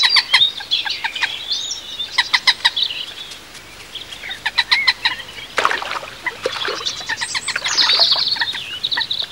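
A moorhen calls near its nest in priory grounds with a stoat nearby, giving loud, close, sharp repeated notes and chirps in clustered bursts with brief pauses.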